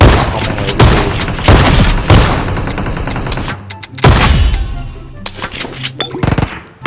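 Gunfire in the mobile battle-royale game PUBG Mobile: loud, close bursts of rapid automatic shots with booming reports, pausing briefly before another heavy volley and scattered lighter shots.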